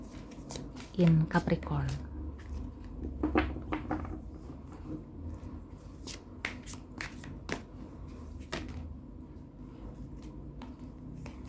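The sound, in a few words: tarot cards being shuffled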